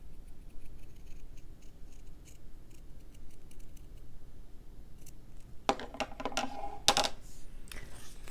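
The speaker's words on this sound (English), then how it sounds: "I like to really just gently squeeze the scissors and rotate the fabric" Scissors snip through fabric circles in a quiet room, with a few soft, faint clicks followed by a brief cluster of sharper, close cutting sounds.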